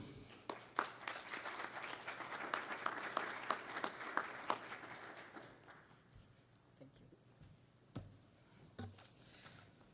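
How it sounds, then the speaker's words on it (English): Scattered audience applause at a public meeting, with quick, uneven claps that thin out and fade, followed by a few isolated claps and some faint voices. The recording sits at a low, distant level. "let's give a big round of applause to Joey Cadle."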